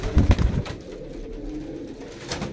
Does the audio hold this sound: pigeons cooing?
yes